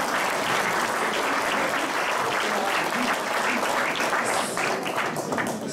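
An audience applauds a young music-school violin virtuoso named Hugo at an art exhibition in Fréjus, with dense, steady clapping that fills the room for the whole stretch, with no talk over it.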